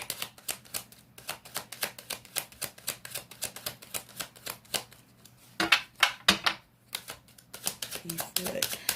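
Tarot cards being shuffled and drawn, a close series of quick crisp riffling bursts in an uneven rhythm, with a few soft slaps as cards are placed and a voice speaking briefly among them.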